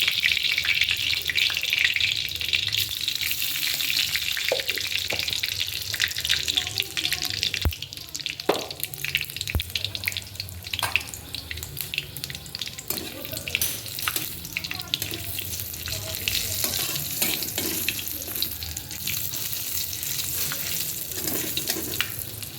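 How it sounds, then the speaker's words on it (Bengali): Bay leaf, dried red chilli and panch phoron spice mix sizzle steadily in hot oil in a wok, a continuous bright crackle with occasional sharper pops and stirring scrapes throughout. "কড়াইতে তেল দিয়ে দিলাম তেজপাতা শুকনো লঙ্কা দিয়ে দিলাম এখন পাঁচফোড়ন দিয়ে দেবো"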